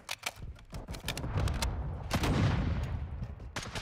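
Rapid SMG bursts in the video game Modern Warfare 2, dense overlapping shots with brief gaps, loud and close, mixed with other game gunfire and battle noise.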